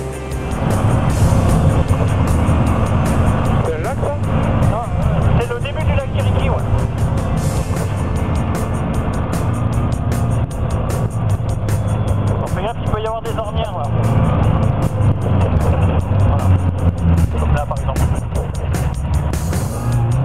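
An SSV side-by-side off-road vehicle engine rumbles loudly and steadily throughout, with speech over it for most of the run, at a rally-style dirt track event.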